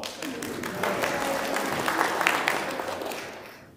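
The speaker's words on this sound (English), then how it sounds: "Let's give her a round of applause." A church congregation applauds after a worship reading, a steady wash of clapping that swells and then fades out over a few seconds.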